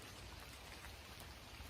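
Rain falling at a wild campsite during a bike trek, a quiet, continuous hiss of drops pattering on surfaces nearby, steady and unbroken with no talking.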